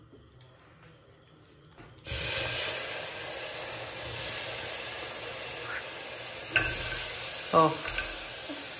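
Mutton hits hot oil in a cooker with a sudden loud sizzle after a quiet start, then settles into a steady hissing fry, broken by a few sharp stirring clinks near the end.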